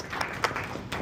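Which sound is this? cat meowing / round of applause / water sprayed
round of applause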